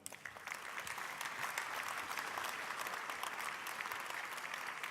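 An assembly audience at a general meeting in Nantes gives continuous applause, a steady, moderately distant patter of many hands clapping throughout without pause.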